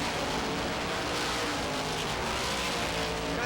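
Supermodified race cars at speed on the oval at Star Speedway during an ISMA opening night, a dense, steady engine roar that fills the whole stretch at a constant, fairly distant level.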